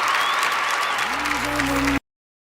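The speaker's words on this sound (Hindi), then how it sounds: "आपकी तालियां इस चीज का गवाह होनी चाहिए और जोरदार" Audience applause at the Filmfair Awards fills a crowded hall, steady and loud for about two seconds before cutting off abruptly, with tonal music starting underneath.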